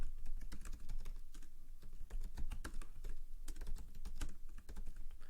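A nickname being typed on a computer keyboard: quick, uneven bursts of close, crisp key clicks over several seconds, alone with no voices.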